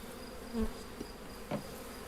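Honey bees hum steadily at an open hive during frame work, a low, soft buzz that stays even throughout, with a couple of faint thumps.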